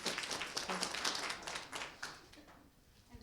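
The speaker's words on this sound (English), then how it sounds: "Let's give her a round of applause." Audience members at a school superintendent's parent forum applaud a speaker, a brief spread of moderate clapping that tapers off after about two seconds.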